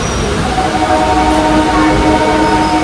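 A Majerhat–Habra local train heard from inside a nearly empty carriage: a steady, loud rumble of wheels and carriage noise, with a faint distant horn.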